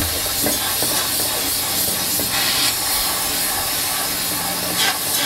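Sandblasting machine firing fine sand at a cast iron pan, a loud unbroken hissing blast with slight surges and a few faint knocks, steady from start to finish with no talk.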